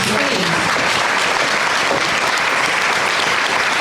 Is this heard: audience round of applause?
yes